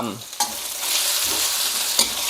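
Loud, close sizzling of chicken thigh pieces stir-frying in a hot pan, with a few scraping stirs breaking through the steady hiss.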